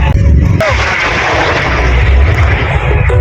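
Bamboo rockets launch at a Bun Bang Fai rocket festival in a Thai village, a loud, continuous roaring rush with sharp bursts, while crowd noise and voices carry underneath.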